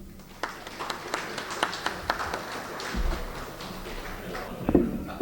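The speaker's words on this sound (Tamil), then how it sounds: "கைதட்டுங்கப்பா." Scattered clapping from an audience at a 2025 school gathering of former students in Oddanchatram, with irregular claps and taps over a murmuring room.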